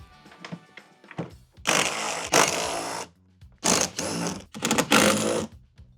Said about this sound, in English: Next, we're going to remove the 4 sweater basket bolts, 2 located in the rear, and there's 2 in the front.